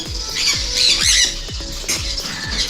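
Loud, harsh squawks of pet birds repeat close by indoors in a house in quick succession, several birds calling over one another with faint wing flutters.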